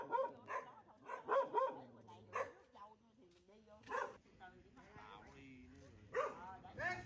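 Dog on a Vietnamese family farm barking in several sharp bursts, fairly close, mixed with someone speaking Vietnamese between and over the barks.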